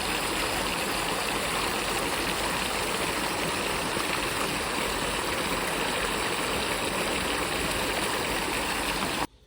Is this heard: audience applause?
no